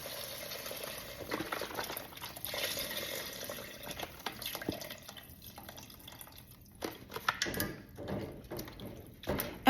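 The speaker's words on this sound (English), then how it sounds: "Now we're gonna add 32 ounces of chicken broth" Chicken broth from a 32-ounce container pours into a cooking pot for cream of mushroom soup with Marsala wine, a steady soft splashing and trickling stream heard alone at close range.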